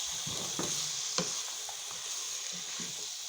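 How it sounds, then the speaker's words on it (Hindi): Mixed vegetables stir-fry in a hot pan with a constant close sizzle, punctuated by scraping, clattering strokes of a spatula every second or so, with no voices. "ये सारी सब्जियां डाल देंगे और इसे अच्छी तरह से भूनेंगे।"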